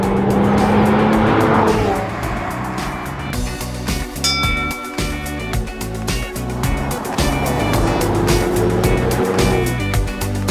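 A DeLorean and a Porsche 911, both rear-engined cars, race each other, with loud engine roar and revving running throughout and a couple of rising gear pulls. There is no talking.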